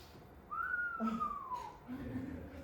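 An actor on stage in a closing school drama performance of King Lear whistles a single clear sliding note that rises and then falls over about a second, followed by a few soft low vocal sounds.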